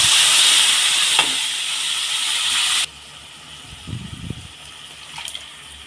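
Hot oil with mustard seeds in a pan for a cauliflower kuzhambu, ground masala paste added: a loud steady sizzling hiss that drops abruptly to a quieter bubbling sizzle with faint clinks.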